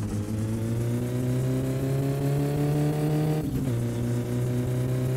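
Car engine fitted with a new turbo in the video game My Summer Car, revving in a sustained, loud, steady drone with strong harmonics and a brief dip near the end, no talking.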